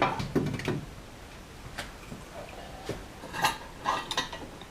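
Metal parts clink and knock as a manual 80mm throttle body is unbolted and lifted off an Audi S4 intake, with scattered tool taps, a rattle early on and sharper clanks toward the end, close and fairly quiet.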